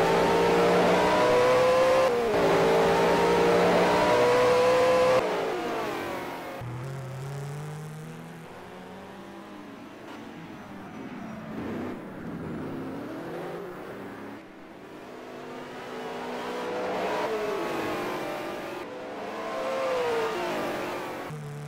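A Jaguar V12 race car at a 1985 touring car race in Wellington revs and accelerates, its engine note climbing and falling through gears, loud at first and then quieter and more distant, with a light tire squeal.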